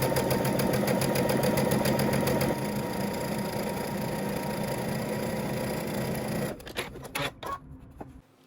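A sewing machine runs steadily close-up, stitching near the edge of a dress front bodice piece, then slows into several short stop-start bursts before stopping.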